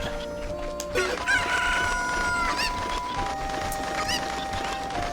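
Cucco chickens clucking and crowing in the game Legend of Zelda Ocarina of Time, bright bird calls and clucks over busy village background sounds and game music, steady and moderately loud throughout.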